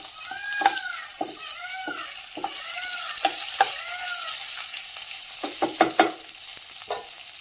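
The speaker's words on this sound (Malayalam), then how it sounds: "ഇപ്പോൾ അരിയെല്ലാം നല്ലതുപോലെ മൊരിഞ്ഞിട്ടുണ്ട്." Matta rice roasts in a pan, with a faint, soft sizzle and a series of scraping stirring strokes coming in an uneven rhythm.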